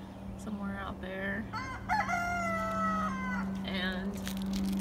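Rooster and chickens beside a farm chicken coop, heard from a patio: a close, loud cock-a-doodle-doo crow rising out of soft clucking, over a steady low hum.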